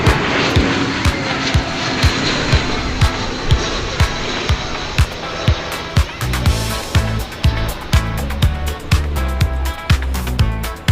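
An airliner touches down on runway 18 right at DFW Airport, a broad roar of engines and rushing air with regular clicking thumps throughout, building louder and deeper in the second half.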